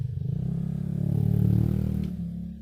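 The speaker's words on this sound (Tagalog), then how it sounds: "Ang ingay ng motor." A motorcycle engine drones loudly nearby, its low rumble swelling briefly then easing off.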